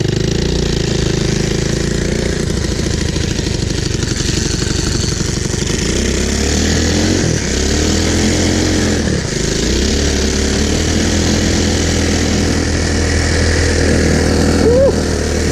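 Abandoned four-wheeler ATV with its engine running loud and close, a steady rough mechanical drone with brief dips and shifts as it is knocked out of gear, with some voices in the background.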